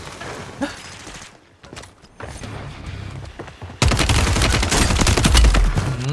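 Gunfire in Call of Duty Warzone, starting as scattered sharp cracks and mechanical clicks, then erupting into a loud, dense, sustained burst of rapid shots that continues to the end.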